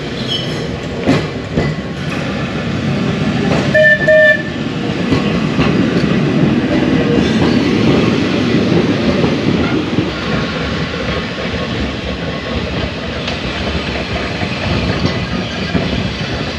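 An Isle of Man electric tram running to Laxey rumbles loudly and steadily with rhythmic wheel clatter and a brief metallic squeal early on, heard close from on board with no talking.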